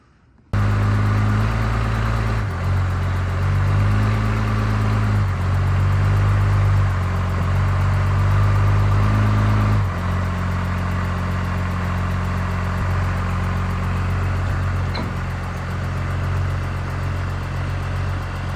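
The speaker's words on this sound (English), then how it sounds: "There's a big old 12 valve Cummins under the hood of this thing." A truck with a 12-valve Cummins diesel idles steadily up close, a loud, deep, continuous rumble with a slight shift in pitch partway through and no talking.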